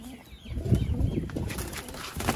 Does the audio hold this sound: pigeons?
yes